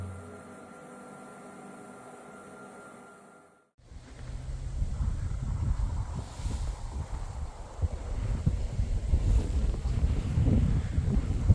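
An Ista Breeze I-2000 2000W wind generator turns outdoors in a moderate wind of about 4 m/s, fitted with alternative blades. Steady low rushing wind and faint whooshing fill the scene and build gradually, with no voices.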